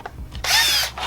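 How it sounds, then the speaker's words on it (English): Cordless power drill boring holes for amplifier mounts on an amp board for a Toyota Tacoma car stereo install, a single close, loud whirring burst after a few faint clicks. "We just need to line them up, get them straight, drill our holes."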